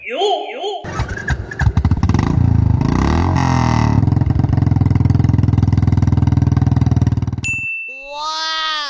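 A Royal Enfield Bullet motorcycle turns over on its electric starter and settles into a loud, steady thumping idle close by, with a chime at the start and voices talking before and after the engine sound.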